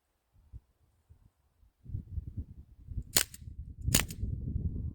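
Sig Sauer MPX .177 CO2 air rifle firing two sharp, loud cracks a second apart, close by, preceded by faint handling clicks and followed by a rustling background.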